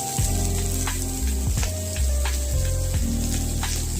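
Shredded cabbage sizzling steadily in a hot pan for homemade egg vegetable chowmein, a constant loud frying hiss with a few soft stirring clanks, no talking.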